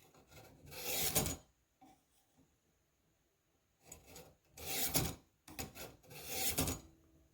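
A Spyderco Police EDC knife is drawn across a Warthog knife sharpener in separate close rasping strokes, soft gritty scrapes in uneven bursts with quiet pauses between them and no voices.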